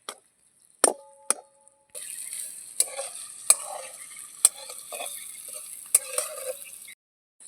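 Ginger garlic paste frying in a pan, a soft intermittent sizzle broken by sharp clinks and scrapes of a spoon stirring against the metal, with short silent gaps.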